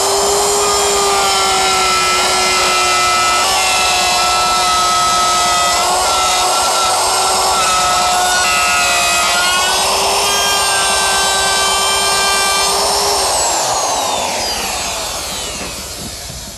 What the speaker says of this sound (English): So let's route these out and see how it goes.